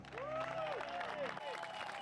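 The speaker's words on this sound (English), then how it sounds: "Big home crowd welcome." A home crowd applauds and cheers as a disc golf player from Team Norway is introduced at the European Championships, with a sustained burst of clapping over which a commentator talks and whistles rise and fall.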